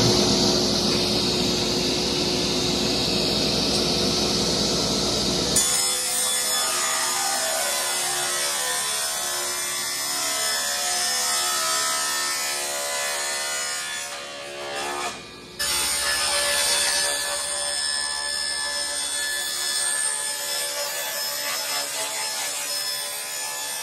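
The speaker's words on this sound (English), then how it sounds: "we're gonna cut the PVC in half" Steady, continuous rasping of a hand saw cutting through PVC pipe for a DIY skateboard rail, close and loud, with a brief pause near the middle before the strokes resume.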